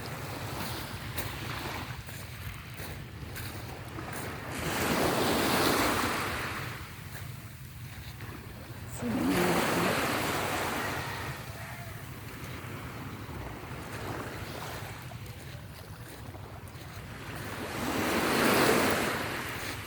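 Sea waves rolling onto the shore in Antique, Philippines, with surges cresting roughly every four to five seconds over a constant wash and some wind buffeting the microphone, and no voices.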